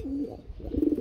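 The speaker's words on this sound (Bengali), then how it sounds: "আসলে প্রচুর পরিমাণে ডাকে বন্ধুরা কবুতরগুলা" Pigeons kept for sale, including large racing birds, coo close by in two low, throaty, wavering calls, with no voices over them.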